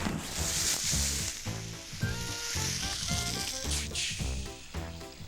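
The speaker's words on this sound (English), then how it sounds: "this is your frozen holiday turkey in the boiling oil" Frozen holiday turkey plunged into a fryer of boiling oil, giving a steady, loud sizzle and crackle with bubbling throughout, under a rhythmic music-like pulse and no talk.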